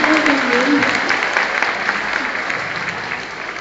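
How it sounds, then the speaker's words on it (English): An audience breaks into loud, sustained clapping that gradually tapers off, with a voice briefly audible at the start. "give him a big round of applause"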